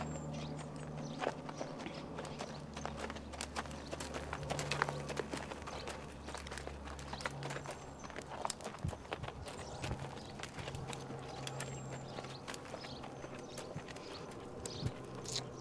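Steady clip-clop of horse hooves walking on hard ground, an even rhythmic pace continuing throughout, fairly close with a low background hum.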